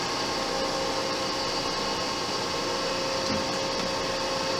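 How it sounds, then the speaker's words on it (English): A Landis 2R universal grinder, 14 by 36 inch, runs its grinding spindle with a constant loud whirring hum and hiss, steady throughout with no talking. "Grinding spindle is going there now."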